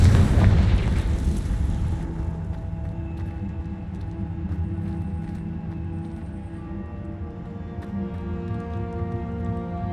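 A Confringo fire spell detonates in Hogwarts Legacy as a loud, close explosion. The blast settles into a long sustained roar with steady droning tones over the following seconds, with no talk over it.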